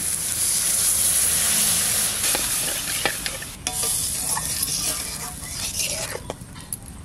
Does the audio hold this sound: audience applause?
no